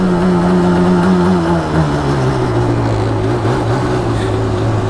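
An ATV engine revs high in gear with a loud, steady drone holding a sustained high-pitched tone throughout.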